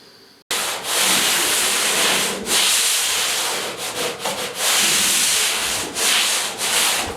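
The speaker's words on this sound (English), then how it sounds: "just giving the primer a light little sand" Light hand sanding of a primed bedroom wall, a close, steady rasping scrub in repeated long strokes with brief pauses between passes, starting abruptly after a moment of quiet.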